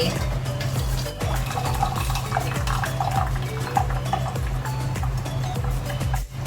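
Boiled stevia leaf liquid is strained out of a cooking pot in a home kitchen, giving a steady wash of pouring water with rhythmic low clunks and light metallic clatter throughout, and no voices.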